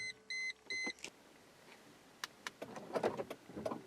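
Central door locks on a Mercedes-Benz W140 S-Class: three short electronic beeps, a pause, then a quick cluster of mechanical clicks and clunks from the lock actuators, close and alone.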